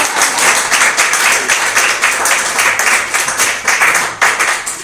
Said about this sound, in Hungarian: Ilyenkor szoktak tapsolni.